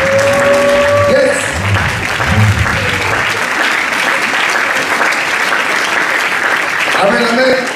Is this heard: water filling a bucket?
no